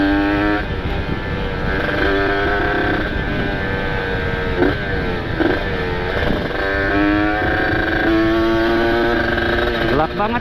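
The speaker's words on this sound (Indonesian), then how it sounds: "Motor lagi enak-enaknya ini. Habis panas apa namanya mesin udah pol." Ported motorcycle engine with an aftermarket exhaust running hot and fully warmed up in a dark spot, a steady mid-pitched drone with harmonics that shift slightly as it revs, loud throughout, with voices talking over it.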